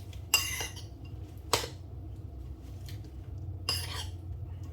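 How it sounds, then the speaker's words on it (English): Three separate metallic clinks of cutlery against dishes, spaced irregularly over a low steady background hum, with no voices. "Casually using all of the cutlery to make dinner."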